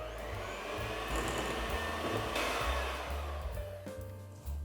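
An electric mixer gives pumpkin spiced latte cupcake batter a final mix with a steady, close, whirring motor hum that runs the whole time, no one speaking.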